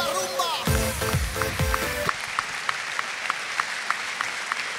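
A crowd at a university sports games opening ceremony breaks into loud, sustained applause as flags are sent off, with music fading out at the start and the clapping carrying on evenly.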